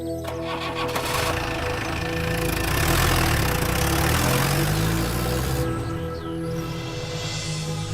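A tractor engine rumbles steadily at idle, a low continuous throb with mechanical rattle, loud and close, with no voices.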